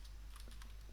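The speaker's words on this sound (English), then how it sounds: "The only way to show it is by typing the command do show standby." A computer keyboard is typed on as a router command is entered, several quick light keystrokes close by over a low steady hum.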